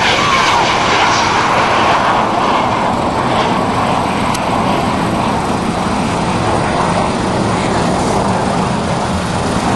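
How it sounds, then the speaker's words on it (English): A T-33 jet aeroplane roars overhead with a broad, steady engine rush that stays loud throughout. "that is a jet aeroplane"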